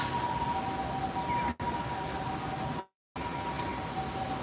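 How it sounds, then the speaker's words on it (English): A loud, continuous ambulance siren wails steadily as it passes close by on a Tokyo street near Ginza Sony Park, with traffic rumble underneath, the sound cutting out briefly twice. "the very loud ambulance rolling by right now, saving somebody's life"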